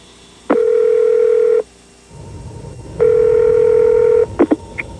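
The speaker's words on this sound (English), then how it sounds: "Now, dialing's as easy as this." A voice-activated portable car phone from a 1992 commercial, giving two long steady dial tones followed by a quick run of short dialing beeps, loud and clean over a low background rumble.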